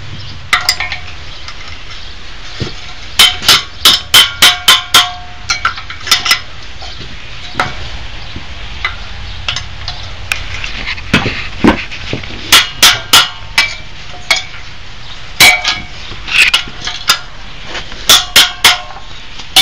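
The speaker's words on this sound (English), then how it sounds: "tap the bolt slightly with the hammer." Hammer tapping on the engine fan bolts of a 327 engine with the belt still tight, sharp metallic clinks in quick clustered bursts of four to six, repeating every few seconds, close and loud with no talk.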